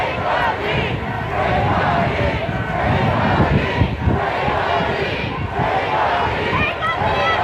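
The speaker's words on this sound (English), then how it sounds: "The crowd is urging the police to take a knee." A large protest crowd outside a police station in Akron, Ohio shouts and chants continuously in loud rhythmic waves, with overlapping voices and babble filling the air.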